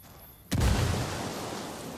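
A fragmentation grenade detonates in the tactical shooter Ghost Recon Wildlands, a sudden heavy boom after a quiet moment, followed by a rumbling roar that lingers and slowly fades.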